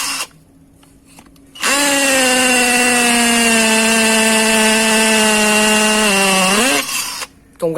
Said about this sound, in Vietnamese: Đây là công dụng thứ hai của máy là mình khoan gạch, anh em để chế độ có búa anh em nhá.